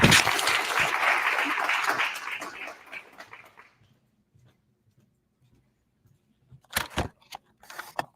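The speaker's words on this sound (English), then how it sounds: "So please join me in giving a big round of applause for these two." Audience applause for two art school residents at a gallery talk, a full burst of clapping that fades out after about three seconds, then near silence broken by a few scattered clicks and knocks.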